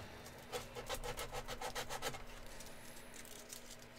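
A worn piece of sandpaper is rubbed back and forth during a live build, a faint run of about ten quick rhythmic strokes that trails off into low background hiss.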